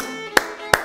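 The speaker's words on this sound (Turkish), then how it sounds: "Kendimi alkışlıyorum galiba şu anda." A cook claps for himself while making beef stroganoff in a kitchen: two short, sharp claps about a third of a second apart, close and fairly loud against a quiet background.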